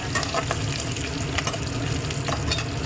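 Green chilies with curry leaves sautéing in a pan, giving a dense, even sizzle and crackle, close and steady throughout, with occasional light stirring scrapes and no talking.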